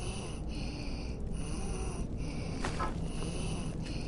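Raspy, snoring breaths from a Hagraven in Skyrim on PS5 come in a regular rhythm about once a second, over a constant low ambient hum.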